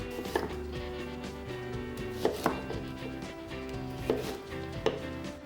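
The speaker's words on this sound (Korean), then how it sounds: "무 250g은 원하는 크기로 잘라주세요." A knife chops through white radish on a cutting board in steady, close strokes, with a few sharper thuds standing out from the rhythmic cutting.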